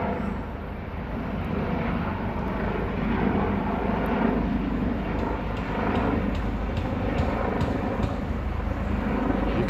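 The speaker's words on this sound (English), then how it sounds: "we got an orange helicopter sighting" An orange helicopter passes overhead above a Toronto street, a sustained low rumble of rotor and engine mixed with city traffic noise, fairly loud and steady throughout.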